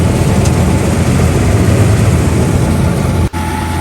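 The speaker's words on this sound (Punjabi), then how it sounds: "ਇਧਰਲੇ ਪਾਸੇ ਚੱਲ ਰਿਹਾ ਨਾਲ ਦੀ ਨਾਲ ਟਰੈਕਟਰ ਫਾਰਮ ਟਰੈਕ 60" A Farmtrac 60 tractor engine runs during a paddy harvest, a loud, steady, low droning rumble close by with a brief dip near the end.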